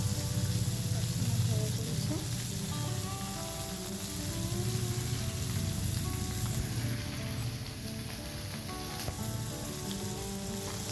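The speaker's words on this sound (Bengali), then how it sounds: "এবার ভাজতে বসেছি পার্শে মাছ" Parshe fish frying in oil in a home kitchen wok, a steady dense sizzle and crackle running throughout at close range, with faint background voices beneath it.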